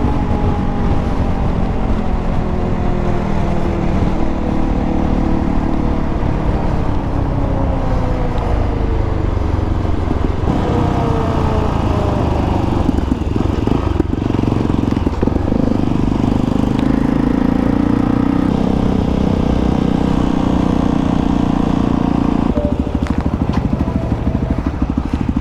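Motorcycle engine running steadily while riding, loud and continuous with shifting engine tones throughout, no talk.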